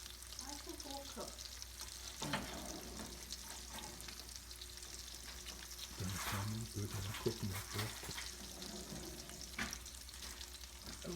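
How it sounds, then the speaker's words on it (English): Meatballs fry in a pan with a soft, continuous sizzle and occasional spatter, and a stirring scrape or two, all fairly faint and quiet. "We're going to cook these all the way through because they just want to have fried meatballs."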